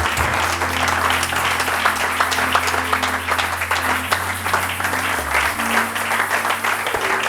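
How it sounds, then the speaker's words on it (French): Church congregation applauding and acclaiming at a sermon, a dense, steady wash of clapping with crowd noise and low sustained tones underneath, loud and continuous throughout. "Qui peut donner un tonnerre d'acclamation pour mon Jésus?"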